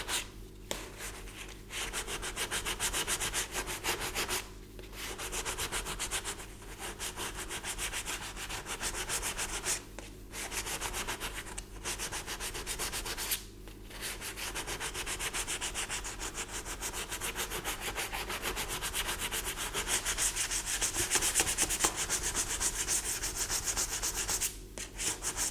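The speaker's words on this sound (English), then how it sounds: "I'll keep sanding" Round sandpaper being rubbed by hand over a primed surface to smooth pinholes, a steady close scratchy rasp in long strokes broken by short pauses, with no talking.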